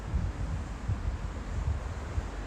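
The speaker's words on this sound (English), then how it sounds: "It's always windy here." Steady gusting wind in Corfu, Greece, in March buffets the microphone, a low rumbling roar that swells and dips in uneven pulses with no voices.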